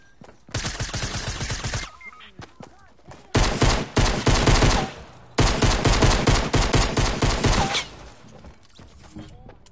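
Rapid bursts of automatic gunfire in a video game come in three long volleys, loud and close, separated by short quiet gaps, with faint voices in the background.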